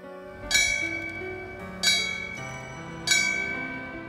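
A fire bell rings at a memorial for wildfire victims, three loud separate strikes, each leaving a long ringing decay before the next, with no voices.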